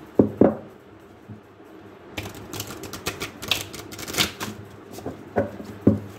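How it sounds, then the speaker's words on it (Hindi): Tarot cards being shuffled by hand, a few riffling bursts of papery clicks and flutters, close and fairly quiet, with no talking. "फिर मैं अच्छे से शफल कर लेता हूँ उन कार्ड्स को।"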